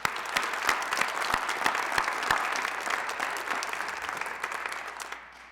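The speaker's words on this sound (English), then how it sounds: "Let's give them all a big round of applause." An audience at an alumni awards ceremony applauds its award recipients with sustained, dense clapping that fades out at the end.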